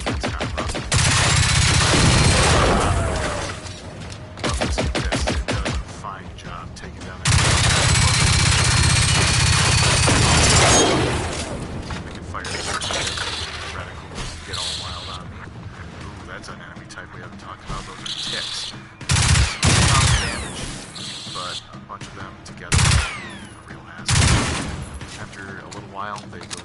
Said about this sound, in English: They have some pretty high caliber rifles attached to their arms.